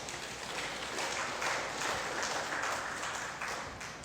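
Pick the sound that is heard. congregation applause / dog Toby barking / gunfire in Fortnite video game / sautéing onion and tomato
congregation applause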